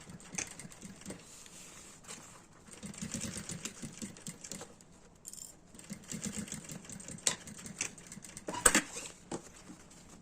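Sewing machine running a seam close to the edge of fabric for a multipurpose zippered bag, soft rapid needle patter in short runs with pauses, close and fairly quiet amid handling rustle.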